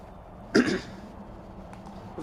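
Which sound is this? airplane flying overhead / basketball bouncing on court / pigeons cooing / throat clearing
throat clearing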